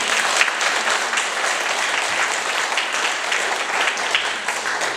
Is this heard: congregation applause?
yes